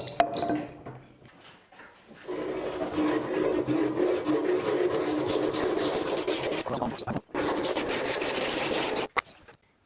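A hand saw cuts through wood along a marked line in steady, rhythmic rasping strokes, close and clear. A short pause comes near the end before the strokes resume.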